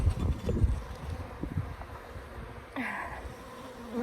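Africanized hybrid honeybees swarm around a top bar hive, their buzzing humming steadily close to the microphone with some wind noise and a few louder passes near the end.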